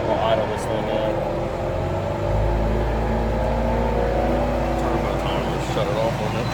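An engine idles with a steady low rumble, close and fairly loud, deepening slightly partway through as it settles, with faint background noises and no clear talk.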